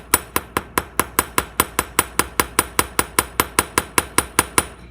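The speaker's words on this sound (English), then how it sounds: "I'm trying not to hit the steel against steel, because you never want to do that. Instead, I'm focusing on just getting it on top of the brass." A hammer strikes a steel letter stamp into brass metal in a rapid, steady series of about twenty sharp, ringing metallic taps, close and loud, with no talking.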